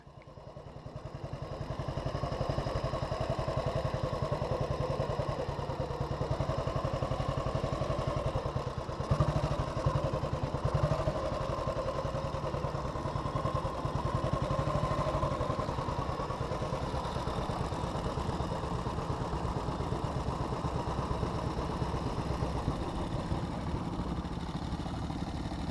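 A Panther Model 100 single-cylinder motorcycle engine runs steadily on the road for the whole stretch, a continuous mid-pitched engine drone with mechanical clatter at an even level and no talking.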